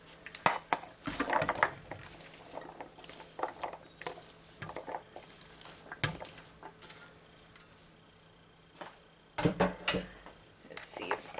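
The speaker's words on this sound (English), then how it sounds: "Let's see if I can stir this up." Corned beef hash with chunks of potato stirred in a pot, with irregular scraping and clanking of a spoon against the metal in bursts and brief pauses, plus a soft murmur of talk.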